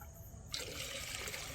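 Water pours into a vessel of milk with a sudden hissing splash that starts about half a second in and runs on as a steady, close, broadband trickle after a quiet moment.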